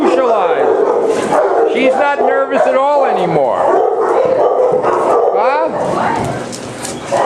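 Several dogs yip, whimper and give short howling barks in quick, overlapping bursts, while a person talks continuously over the commotion.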